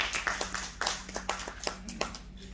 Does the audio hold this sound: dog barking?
no